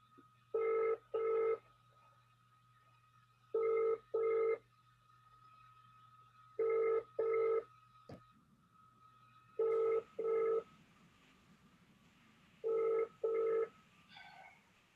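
Telephone conference system at a council meeting, repeated pairs of short electronic ringing tones at regular intervals over a faint steady hum, with no speech.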